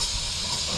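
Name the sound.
O'Reilly brake cleaner being sprayed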